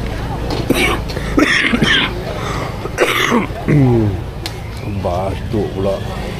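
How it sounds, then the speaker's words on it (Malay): Several rough coughs burst out among ongoing chatter, with street noise and passing traffic in the background. "Batuk pula"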